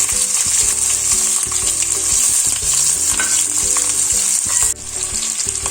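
Sliced onions and curry leaves frying in coconut oil for a chicken curry, a loud continuous close sizzle with rhythmic stirring clatter of a spoon against the pan, with no voices.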